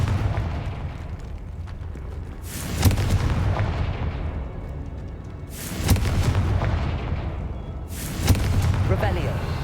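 Confringo fire spell explosions in the Hogwarts Legacy video game: three loud, sharp blasts with rumbling tails, spaced a few seconds apart over a steady low game background.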